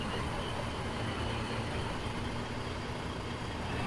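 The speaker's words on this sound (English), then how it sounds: "I hear a truck" A low, steady truck engine in the video game Foxhole rumbles continuously at moderate distance, a dense even drone with no voices over it.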